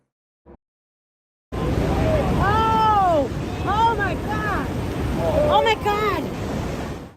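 Ocean waves roar steadily off the Santa Cruz coast in California, where a boat caught in the surf capsized. The close, wind-buffeted wash runs continuously after a silent start, with voices crying out over it.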